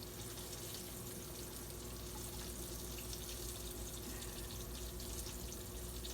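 Tap water runs steadily as flour mixture is rinsed off hands in a kitchen sink while fried green tomatoes are being prepared. The splashing is a continuous, even rush close by, with no pauses or talk.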